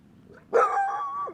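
A puppy by the Natchez Trace Parkway in Mississippi gives a single short, close bark or yelp that rises into a whining tone, heard against quiet outdoor background.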